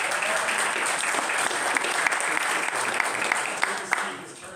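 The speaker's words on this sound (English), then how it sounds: "Everyone deserves a round of applause for showing up." Applause from the audience at the Goshen Business Circle candidate forum, a sustained patter of many hands with a few sharper individual claps standing out, plus some talking underneath.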